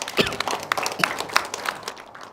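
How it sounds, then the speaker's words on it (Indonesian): A forum audience gives brief, scattered applause, a light patter of claps fading out over a couple of seconds. "Boleh tepuk tangan dong?"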